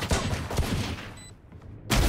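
Gunshots in Valorant, a rapid burst of close, sharp shots followed by a pause and then another loud shot at the end.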